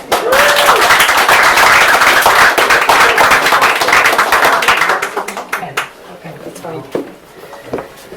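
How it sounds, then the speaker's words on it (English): A crowd at an open-mic night in a Limerick bar claps loudly and continuously for several seconds, then the applause thins out and fades into scattered claps and a murmur. "A round of applause."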